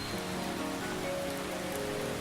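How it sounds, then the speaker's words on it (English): Rain falling on metal vessels makes a steady, dense patter with faint ringing overtones. It runs continuous and even throughout, with no voices. "the sound of rain on the metal vessels may have been a sound meditation"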